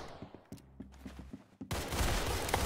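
Pistol gunfire in the Roblox game Arsenal, a rapid series of sharp, fairly faint shots in an uneven rhythm, ending in a sudden burst of loud, noisy action.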